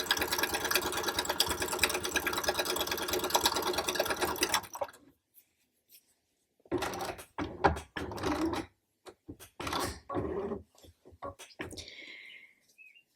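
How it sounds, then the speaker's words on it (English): A sewing machine stitches a half-inch seam along the bottom of a fabric bag, running steadily for about five seconds before stopping; a pause follows, then scattered bursts of fabric handling and clicks. "I'm just going to sew along the bottom here, that 1/2 inch."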